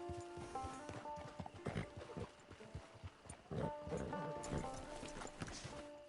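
Horse hooves clip-clop in a steady walking rhythm with an occasional whinny in a video game, mixed with ambient game music and faint background sound.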